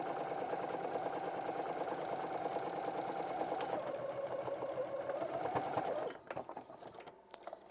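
A sewing machine runs steadily for about six seconds while piecing fabric scraps into strips, its fast needle rattle close and even before stopping, followed by a few faint handling clicks.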